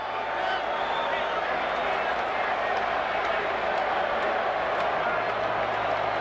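A baseball stadium crowd of more than 48,000 at a 1988 ALCS playoff game roars in a steady, dense wash of cheering and clapping, with a chant beginning to build in the background under a broadcaster's talk.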